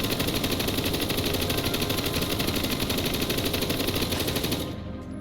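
Sustained, rapid automatic gunfire from a machine gun with a 150-round magazine in a modded Minecraft game, a dense unbroken rattle of shots lasting several seconds before cutting off abruptly.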